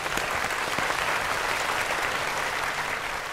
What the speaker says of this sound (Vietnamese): một tràng pháo tay thưa quý vị